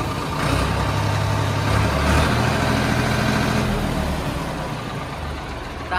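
A Swaraj 855 tractor engine revs loudly and steadily up close, a continuous mid-pitched diesel roar that swells slightly near two seconds and holds, with no talk over it.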